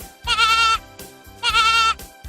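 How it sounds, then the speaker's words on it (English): Two loud, close goat bleats, each a wavering cry of about half a second separated by a short pause. "Goat."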